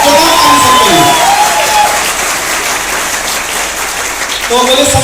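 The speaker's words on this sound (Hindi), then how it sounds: "जोरदार ताली सबके लिए" A gathered audience at a Safe Shop testimony event gives loud, sustained applause with dense clapping and some cheering, while a voice speaks over it at the start and again at the end.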